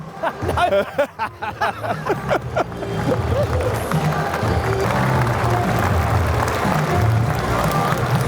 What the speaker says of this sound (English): I think they're clapping to keep warm.